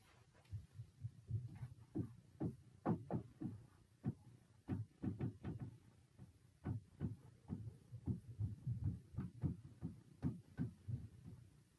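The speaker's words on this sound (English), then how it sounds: "I don't know if you can hear the thumping, but my children are running around upstairs right now" Dull, muffled thumps of children running around upstairs repeat irregularly in quick bursts, pounding on the floor overhead, low and soft against a quiet room.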